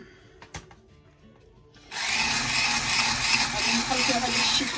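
Electric mixer whirring through muffin batter with chocolate, starting abruptly after a quiet moment with a couple of light clinks, then a loud, steady buzzing grind with slight fluctuations continuing to the end.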